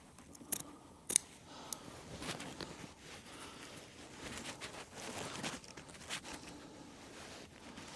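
Scissors snip through upholstery fabric while an antique two-seater sofa is recovered, with a few sharp close cuts early on, then soft rustling and handling noises, quiet overall.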